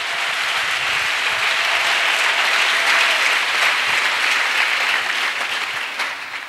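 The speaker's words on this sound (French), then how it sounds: "Clap offering to Jesus." A church congregation claps together in sustained, dense applause offered to Jesus, loud and steady throughout before easing slightly at the very end.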